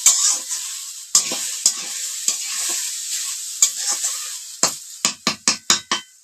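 Cabbage is fried and stirred in a pan on a village clay stove, giving a steady sizzle and repeated sharp metallic scrapes and clanks of the spatula, which cluster into a quick series at the end.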